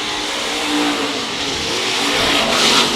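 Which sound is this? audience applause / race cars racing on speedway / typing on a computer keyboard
race cars racing on speedway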